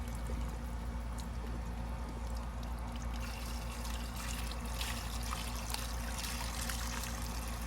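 A Universal Rundle Colburn urinal drains after a piston flushometer flush, giving a steady, close watery trickle and gurgle that runs without a break for the whole stretch.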